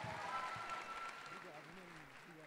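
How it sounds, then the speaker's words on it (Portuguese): Applause from the audience at a shopping-mall fashion show in Brazil, moderate clapping that thins and fades as an announcer's voice comes in over it. "Uma salva de palmas para ela."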